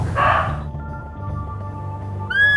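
A single sharp, hoarse deer bark rings out in Oxfordshire countryside, followed by quiet outdoor ambience, then the start of another call at the very end.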